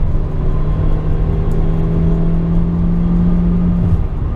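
A car engine strains under acceleration, a steady loud droning hum holding one pitch for several seconds, close and continuous with no voices.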